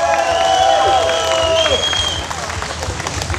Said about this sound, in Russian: ваши бурнейшие аплодисменты